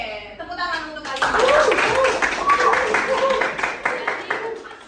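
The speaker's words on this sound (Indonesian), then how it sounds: "Oke, tepuk tangan untuk kalian." Students in a classroom break into a short round of applause. The clapping is moderately loud and lasts a few seconds, while a teacher's voice carries over it.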